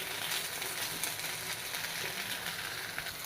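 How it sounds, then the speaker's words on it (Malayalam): Grated ivy gourd thoran stirred in a frying pan, with a steady sizzle and the scrape of a spoon catching the bottom of the pan, heard close and alone. "അടിയൊക്കെ തട്ടിയിട്ട് നന്നായിട്ട് ഇളക്കി കൊടുക്കണേ"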